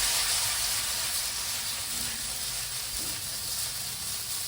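Salmon with a little soy sauce sizzling in a pan, a steady hissing steam and frying sound, moderate and continuous, no talking.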